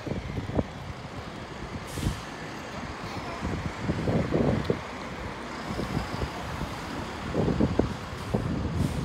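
Strong wind buffeting an outdoor microphone at the Exeter bus station, a steady low roar with repeated gusty thumps and bursts, bus traffic faintly underneath throughout.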